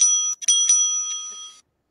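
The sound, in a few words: timekeeper's bell ringing in a debate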